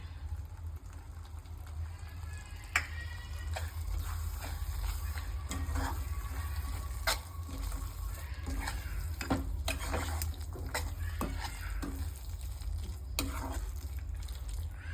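Grated coconut frying in oil in a pan, a steady low sizzle with intermittent scraping and stirring clicks, close but soft, with no talking.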